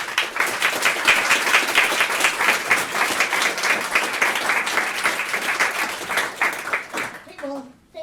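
An audience at a lecture on effective altruism claps steadily for about seven seconds, a dense, loud patter of many hands that fades out at the end.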